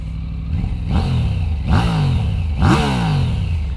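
A Triumph Tiger 900 Rally motorcycle with factory exhaust revs up three times in quick succession, each rev rising sharply then settling back to a throaty idle, close and loud.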